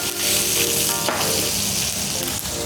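Seasoned chicken breast dropped skin side down into a hot pan with unsalted butter gives a loud, dense, steady sizzle and spatter that holds without a break, close up and with no voices.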